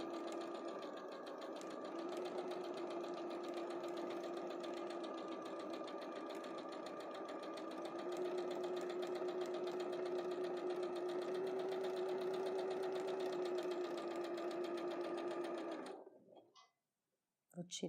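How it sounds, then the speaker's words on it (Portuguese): A sewing machine runs steadily for about sixteen seconds, stitching a straight seam on fabric with a continuous whirring hum, then stops abruptly. "Vou costurar um pouquinho."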